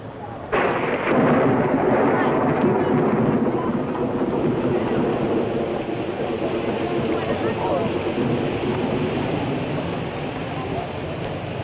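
Rain pours steadily at a World's Fair, a dense, loud wash of rainfall that opens abruptly and continues evenly with a low rumble beneath it.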